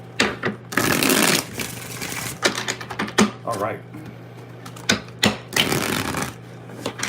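Tarot cards are shuffled in quick, papery riffling bursts and taps, close up, with a brief spoken remark near the end.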